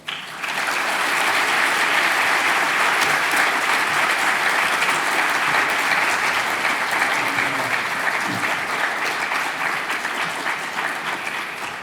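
A lecture audience applauds to welcome Michael McFaul, a dense, sustained clapping from many hands that starts abruptly, holds steady for about ten seconds and then begins to fade.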